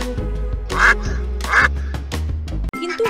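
Cartoon ducks quack in loud, repeated bursts, two strong calls with shorter ones between, set over steady background music.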